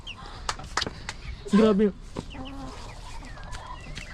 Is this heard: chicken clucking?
yes